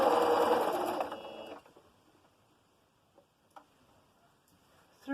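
A sewing machine stitching through fabric runs in a fast, steady whir for about a second and a half, then stops, leaving faint clicks and a final mechanical clunk.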